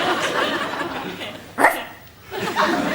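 A person imitating a dog's bark, a couple of short voiced woofs amid a background of speech and light laughter.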